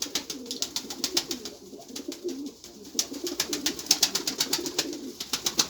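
Soft, throaty coos of a male pigeon repeat steadily at close range, with rhythmic rustling or tapping running throughout.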